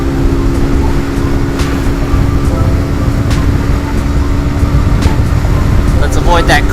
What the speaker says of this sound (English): Lots of wind noise.